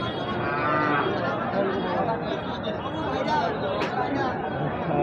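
Thin, bony dairy cows at a cattle market, with moos and animal noises mixed into constant crowd chatter and people talking nearby.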